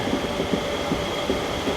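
A train runs along the Thiruvananthapuram–Nagercoil line in a steady, loud rumble, with evenly spaced clacks from the wheels.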